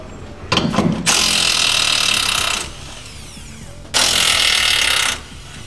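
A power ratchet driving bolts out of the frame of a 2010 GMC Sierra pickup, two loud close bursts of high-pitched whirring and rattling separated by a quieter pause, with no talking.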